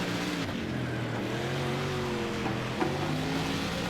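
Dirt track race car engine in the World of Outlaws Dirt Racing 24 video game, a steady droning motor with gently shifting pitch held at a constant level, alone without speech.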